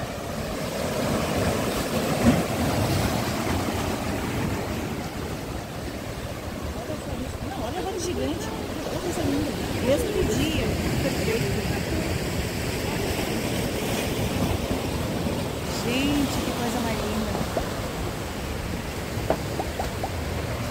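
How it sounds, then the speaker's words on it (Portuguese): Ocean waves breaking near a deck at Barra Norte, a broad continuous wash of surf with wind noise on the microphone, steady and fairly loud without clear individual crashes. "Aqui já é perigoso de descer por causa das ondas."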